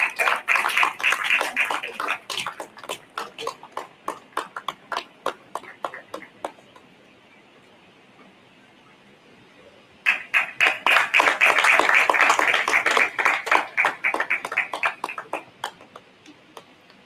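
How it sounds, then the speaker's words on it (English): An audience at an annual general meeting and scientific conference claps for the chairman, starting with scattered hand claps, pausing briefly into quiet, then swelling into denser, louder applause that tapers off. "let's be generous with our hand clap"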